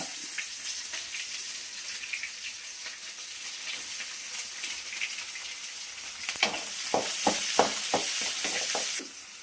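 Cumin, mustard seeds and onion fry in hot oil in a pan with a steady, close sizzle. Several sharp crackles and stirring sounds rise toward the end.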